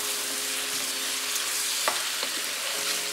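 Sausages and tomatoes sizzle steadily as they grill together in a pan, a dense, continuous frying hiss with a few small pops and spatters, close by and with no talking.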